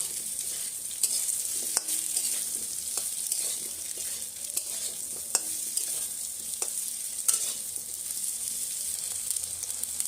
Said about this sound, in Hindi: ये देखु मीडियम फ्लेम रे भेंडीटा फ्राए कर प्राय आमर 2 ରୁ 3 मिनिट हो गलानी